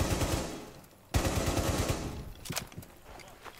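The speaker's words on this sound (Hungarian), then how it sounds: "Csak lövöldözök." Rapid automatic gunfire in the tactical shooter Rainbow Six Siege, two loud sustained bursts of fast shots separated by a brief gap, followed by a few scattered single shots and clatter.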